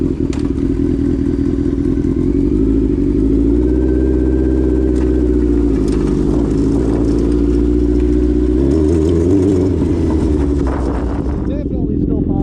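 A 1000cc, 200hp ATV with a chain that pops under load pulls hard under acceleration, its loud engine drone rising and surging close by throughout, with a brief dip near the end.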